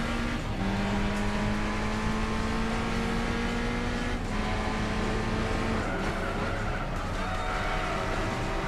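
A Suzuki concept car racing in Gran Turismo 4, its engine note droning steadily and shifting pitch through gear changes, with tire noise underneath and no voices.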